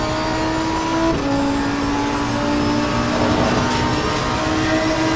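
Race car engine in Assetto Corsa Competizione howls loud and steady, echoing between grandstands on either side, with a sustained engine tone that shifts pitch briefly.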